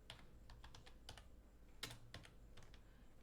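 Keys tapped on a computer keyboard while entering text into a flyer design, a quiet run of irregular close clicks with brief pauses and one slightly louder stroke.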